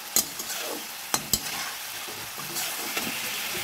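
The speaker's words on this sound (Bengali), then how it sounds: "এখন আমি হালকা হালকা ভাজা ভাজা করে নেব ভালো করে।" Onion and tomato with spices sizzle steadily in a pan while a spatula stirs and scrapes, with a few sharp knocks against the pan.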